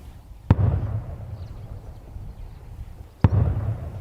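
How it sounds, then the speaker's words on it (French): Two heavy booms of Cameroonian army artillery fire sound from far away, each a sharp crack rolling into a low, rumbling echo, about three seconds apart. "Au loin, l'écho des tirs d'artillerie de l'armée camerounaise."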